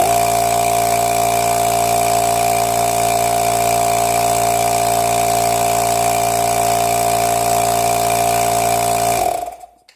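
Two-pole 2 hp compressor motor converted to single-phase, running capacitors individually, a loud, steady electric hum and whine that holds for about nine seconds, then cuts off abruptly and winds down.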